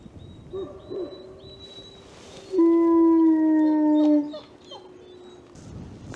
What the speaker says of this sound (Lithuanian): O, kaip kaukia.